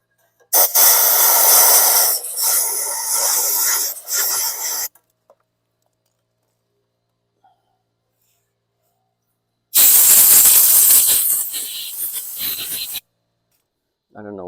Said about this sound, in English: I'm going to blast some compressed air in here.